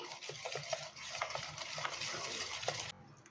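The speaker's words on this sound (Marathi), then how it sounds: "आता छान असं चार ते पाच मिनटं आपल्याला फेटून घ्यायचं आहे" Chana dal khaman batter whisked in a bowl, rapid rhythmic scraping and slapping strokes close up and fairly quiet, stopping abruptly near the end.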